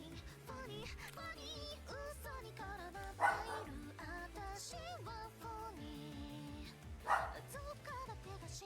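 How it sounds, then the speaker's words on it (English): A dog barks a couple of times in the distance, sharp yaps rising over a busy bed of Fire Emblem: Path of Radiance game music with a clear melodic line. "do you guys hear my dog barking?"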